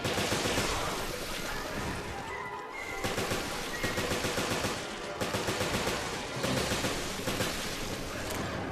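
Sustained bursts of assault rifle fire from a hunting-gear loadout in Resident Evil Revelations, dense rapid volleys that pause briefly and resume, loud and continuous over game ambience.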